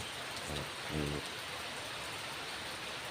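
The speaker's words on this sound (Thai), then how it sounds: "บรรยากาศฝนตก" Rain falling in a steady, hissing wash, constant and fairly close, with a couple of brief low thuds early on and no clear talking.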